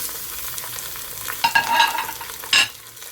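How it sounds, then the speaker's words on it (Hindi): Mutton added to browned onions for Kashmiri rogan josh, sizzling in the pan while being stirred: a continuous frying hiss with two louder bursts of scraping and sizzling near the end, close up, no voices. "अब हम इसमें मटन ऐड कर देंगे"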